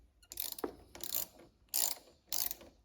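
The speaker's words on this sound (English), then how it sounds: "Use a socket wrench and a 10mm socket to loosen up this negative terminal first." Socket wrench with a 10mm socket loosening the negative terminal on a car battery, giving four short bursts of rapid ratcheting clicks, close and loud with brief pauses between strokes.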